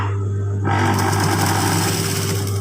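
A sewing machine starts up partway through and stitches steadily, a high whirring mechanical buzz over a constant low hum, close and alone without talk.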